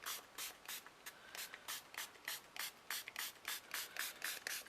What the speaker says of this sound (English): we're just going to spray some water on